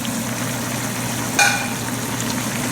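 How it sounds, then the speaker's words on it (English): Cooked velvet shrimp slid slowly into a sauce in a pan over a steady, close sizzle and fry hiss, with a brief sharper clink and splash partway through. "Shrimps are done, so we'll just put it very slowly into the sauce"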